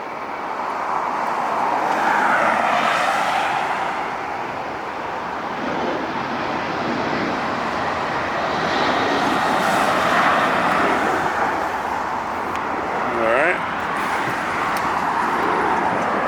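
Southwest airliner in desert livery landing at LAX, a broad steady jet roar that swells and fades over several seconds, heard from a distance alongside ambient traffic noise.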